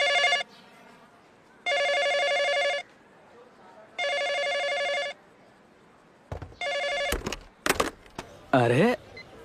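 A telephone rings in three long bursts of harmonic trills with pauses between, loud and close, then the ringing breaks off into short sharp clicks and a brief warbling tone as the call is cut.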